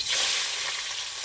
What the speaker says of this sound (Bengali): এইটা এখন আমি ভাজতে দিয়ে দেবো।